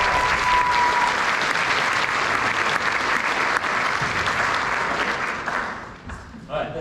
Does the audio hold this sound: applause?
yes